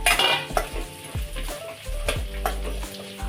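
Fried egg pieces tipped into a hot sizzling pan for egg manchurian, loud frying with repeated metallic clanks and scrapes of a spatula against the pan, close and without voices.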